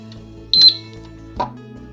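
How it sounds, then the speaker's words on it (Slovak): A Zigbee gas leak detector gives short electronic beeps as it starts up: two brief, loud, clean tones about a second apart, close by with no talking. "Vždy na začiatku, keď štartuje, nezlaknite sa, zase to pípne"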